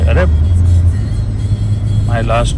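A family car drives through Dubai, heard from inside the cabin as a steady, loud low engine and road rumble that runs throughout while people talk over it.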